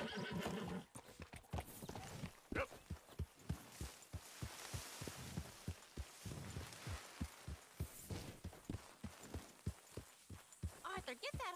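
Horse hooves clip-clop in a steady rhythm with snorts and a whinny in the Red Dead Redemption 2 video game, heard up close alongside faint background sounds.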